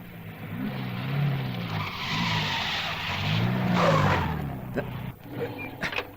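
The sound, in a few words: car tires skidding as the car turns around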